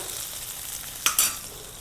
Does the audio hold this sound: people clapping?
no